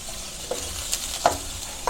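Garlic and onion sautéing in a pan, stirred now and then, with a low steady sizzle and a few soft scrapes of a utensil spaced across the short stretch.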